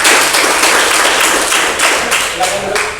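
A class gives applause for a student group, a dense, loud wash of many hands clapping with some rhythmic accents and voices mixed in.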